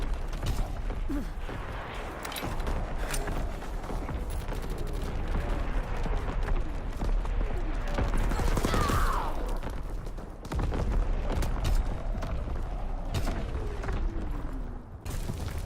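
Artillery barrage in the World War II shooter Call of Duty: WW2, a dense, continuous roar of distant blasts and gunfire rumbling steadily throughout with scattered sharper impacts and mechanical creaks layered in, no speech.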